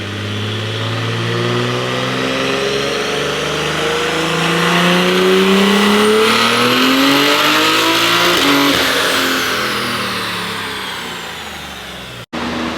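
BMW M4 engine built to around 1200 horsepower on 48 pounds of boost, revving hard during a dyno pull: a loud, sustained rising engine roar that climbs in pitch, then eases off near the end with a brief cut.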